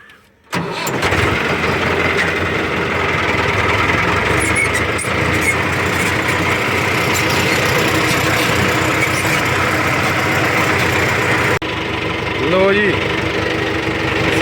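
A tractor working a sugarcane field with a ridger fitted starts up and runs at a loud, steady diesel drone up close, with a brief squeal late on and faint voices under the engine.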